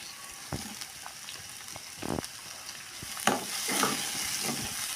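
Small and large chilies with curry leaves sauté in oil for a brinjal curry, a continuous crackling sizzle broken by several bursts of stirring and scraping, growing slightly louder near the end.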